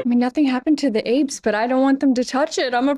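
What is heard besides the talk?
None of the usual background noises is heard.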